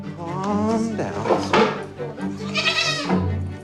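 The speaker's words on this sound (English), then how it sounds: "Not every day we see a goat in here." A goat bleats repeatedly inside a veterinary clinic, loud wavering cries close by, with a brief knock like a door or drawer and some people talking around it.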